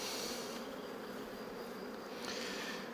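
Honeybees buzz steadily around beehives while foraging, a dense continuous hum close by with no voices, holding level throughout.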